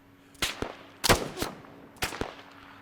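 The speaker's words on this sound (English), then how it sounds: "I'm taking fire from some other snipers." Sniper fire in Arma 3, several sharp, sudden gunshot cracks in irregular succession, some doubled with quick echoes, loud and near against a quiet background.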